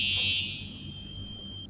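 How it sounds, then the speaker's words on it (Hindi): A fire alarm rings with a steady high-pitched electronic tone, loud at first and then holding slightly softer, alone with a low background hum and no talk. "यानी अगर फायर अलार्म बजता है तो बिल्डिंग को फ़ौरन खाली कर दो"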